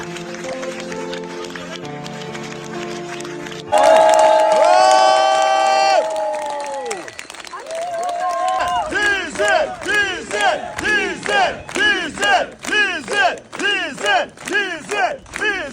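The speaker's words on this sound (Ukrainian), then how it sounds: "Столиця України проваджає відомого музиканта під гучні оплески" A crowd at a musician's funeral in Kyiv gives way from a short passage of music to loud, rhythmic collective shouting and cheering in repeated surging waves.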